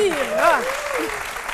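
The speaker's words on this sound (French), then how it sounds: "je vous demande d'applaudir" Studio audience applause on the Ivorian TV midday show C'midi on RTI 1 welcomes a model onto the set. A short burst of clapping sits beneath a prominent voice.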